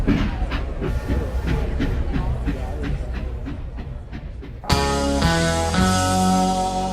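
A train sound effect plays on a radio show: a rhythmic clickety-clack of railcar wheels over rails rolls along, then gives way to a louder, tonal burst like a horn or whistle with steady rumble beneath.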